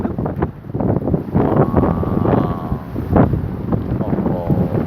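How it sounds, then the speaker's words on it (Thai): Strong summer-storm wind buffets the microphone in loud, continuous gusts that roar and swell throughout, with someone talking excitedly over it. "ลุกเร็วโอ้ยพายุฤดูร้อนมาแล้ว มาแล้วเฮ้ย ยังลมตี"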